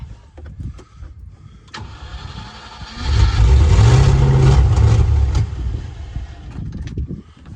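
An abandoned armoured Land Rover engine cranks, catches and runs. Rough starter clatter gives way to a loud, steady mid-pitched rumble for a few seconds, then settles to a quieter idle.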